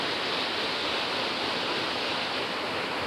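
A waterfall near a clear blue snorkeling spot gives a steady, dense roar of falling water that holds even and close throughout, with no voices.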